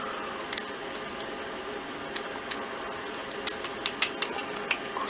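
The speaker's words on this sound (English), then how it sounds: "I got to remove these two back screws." A screwdriver backing screws out of a revolver holster, heard as a scattering of small sharp clicks and ticks spread irregularly over a faint steady hum.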